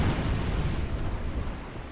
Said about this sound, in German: in dem Moment, wo es explodiert